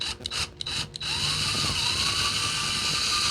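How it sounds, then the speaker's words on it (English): A power drill bores out the center of a plastic axle piece on a 1972 Mercedes C-111 resto-mod build. After a few short stuttering bursts, a steady, close, continuous whine grinds on alone. "I have to drill out that center to get them all off at once."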